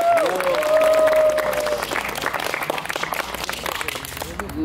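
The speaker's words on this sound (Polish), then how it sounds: "Wielkie brawa." An audience at a youth days event gives a burst of applause for an actor, dense clapping filling the hall and slowly thinning out, close and steady.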